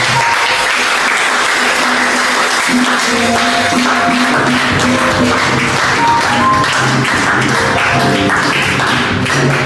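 A church congregation applauds and cheers to acclaim God, steady loud clapping filling the space for several seconds while instruments play underneath, with a few voices rising through the applause.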